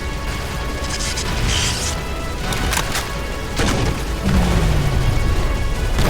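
Grenade launcher fire in a Halo Reach battle, dense booming blasts and crashing impacts over constant loud combat noise, with a descending whine near the end.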